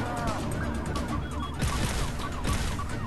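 Gunshots from a zombie video game, a few sharp cracks standing out over a busy, noisy mix of game sound effects.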